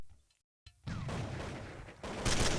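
Rapid gunfire in a Counter-Strike match on de_mirage at DreamHack 2011, a dense burst of shots following a brief silence, then continuing loudly and steadily to the end.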